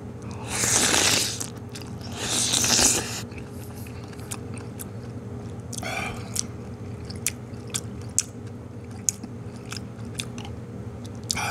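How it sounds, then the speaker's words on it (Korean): Someone eats daylily doenjang soup, with two louder crunchy bites early, then quiet chewing and small mouth sounds at close range. "원추리 된장국을 한번 먹어보겠습니다."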